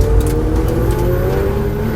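A Ferrari 488 Challenge Evo, a 3.9-liter 700-horsepower lightweight race car, revs loudly up close, its engine pitch climbing in a steady drone with no talk.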